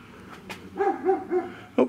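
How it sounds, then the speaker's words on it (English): Dog on the other side of a backyard fence giving a few short, moderately near barks and yips in an uneven series, with a louder final bark, no talk. "Oh, doggy on the other side."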